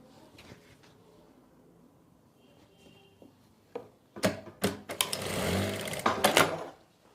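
A sewing machine stitching the legs of a narrow salwar whirs into a rapid mechanical rattle in a few bursts near the end, after quiet handling sounds.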